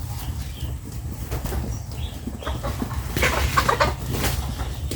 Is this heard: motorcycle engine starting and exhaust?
no